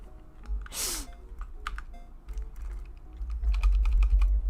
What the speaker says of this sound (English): I'm gonna press every key.